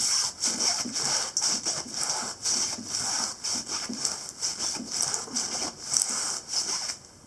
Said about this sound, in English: I'm going to rub it on my skin.